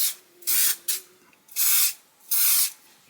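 Three bursts of glue sprayed from an aerosol can onto laser-cut wooden French cleat shelves, each a steady hiss lasting about half a second with brief pauses between, close and clear with no talking.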